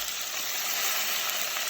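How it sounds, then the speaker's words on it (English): Two small tomatoes sizzling as they hit a hot frying pan of curry, a steady bright hiss of frying holding evenly throughout, close and moderately loud with no talking. "It's going to sizzle."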